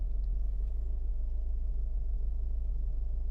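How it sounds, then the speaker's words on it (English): A car engine left running at a steady idle, a low, even rumble close by and continuous with no voices over it. "I'll just leave the car running so we can get this to read."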